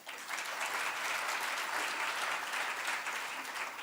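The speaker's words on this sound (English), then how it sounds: "Give him a round of applause." A crowd applauds at a budget dialogue breakfast in Namibia, giving steady, dense clapping that holds at an even level throughout without any talk.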